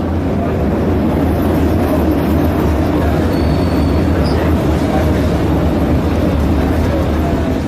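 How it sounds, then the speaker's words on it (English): Continuous rumble of a tram ride through Pyongyang, steady low rolling and rattling noise at close range throughout, with faint murmur of voices underneath. "we went on a tram ride around Pyongyang"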